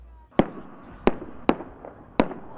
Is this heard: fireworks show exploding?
yes